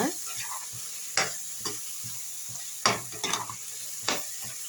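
A spoon scrapes and stirs masala for chicken gravy through a sizzling pan, with several distinct scraping strokes over a steady frying hiss.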